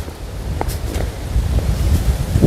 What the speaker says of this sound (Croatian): U, gadno puše, gadno.